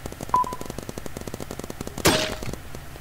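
P90 gunfire in the Roblox paintball game mode: a dense, steady run of rapid shots crackling through the whole stretch, with one louder, sharper burst near the end.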